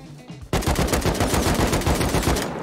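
Sustained automatic AK rifle fire in a video game firefight: after a brief quiet lead-in, a loud, steady rattle of rapid shots continues without pause.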